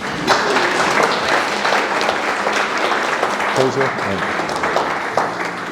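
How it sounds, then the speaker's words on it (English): Loud, sustained applause from a wedding crowd fills the whole stretch, dense and continuous, with scattered voices mixed in. "give yourself a round of applause"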